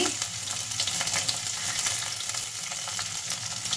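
Ginger and onions sauté in coconut oil in a pan, making a continuous close sizzle with light stirring clicks running throughout.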